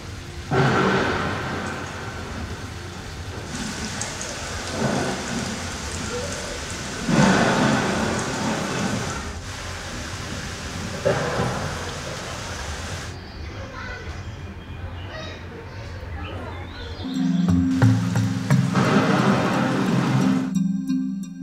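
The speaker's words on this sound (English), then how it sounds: "The Nature Center also has a two-story diorama that demonstrates rainfall runoff and how erosion constantly reshapes Crowley's Ridge." Simulated rainfall pours over a two-story erosion diorama at a nature center, a dense hiss that swells and fades in waves, with thunder-like rumbles and a low hum near the end.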